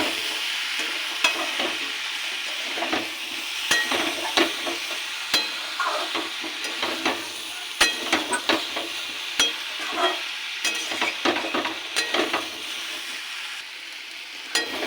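Boiled chickpeas and pumpkin being stir-fried in a pan, with a constant close sizzle and frequent sharp spatula scrapes and taps in an uneven rhythm.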